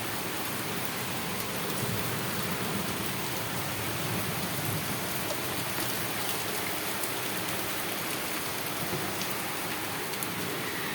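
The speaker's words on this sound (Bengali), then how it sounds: "বীভৎস জোরে বৃষ্টি পড়ছে" Very heavy rain pours down in a steady, roaring wash that fills the whole stretch evenly and closely, with no voices heard.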